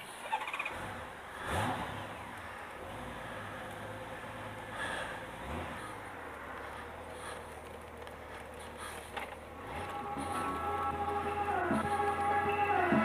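An old Chrysler Voyager minivan passes on a road, its engine and tyre noise swelling and fading at moderate distance amid steady outdoor background.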